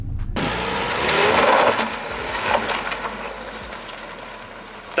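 A supercharged 4.0-litre Jaguar XJR6 revs hard during an attempted donut, its engine surging to a loud peak then dropping back to a rough, steady drone, with scraping and rattling noise mixed in.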